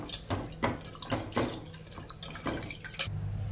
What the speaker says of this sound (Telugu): ఇప్పుడు పప్పుని ఒకసారి శుభ్రంగా కడిగేసుకోవాలి.